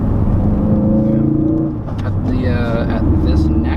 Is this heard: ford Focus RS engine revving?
yes